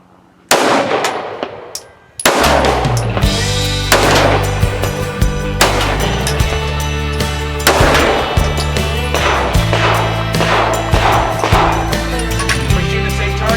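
Rifle shots ring out at the Cedar Ridge shooting range, several sharp loud bangs spaced irregularly, each with a ringing, metallic decay, close to the microphone with no talking.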